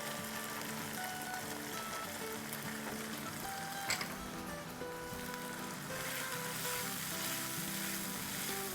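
Tomato puree sizzling with ground meat in a pan for keema pulao with chana: a steady, close frying hiss continues throughout with a brief sharper crackle midway and slight stirring noises.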